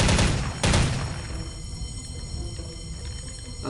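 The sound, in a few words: grenade explosions in video game Soldier of Fortune 2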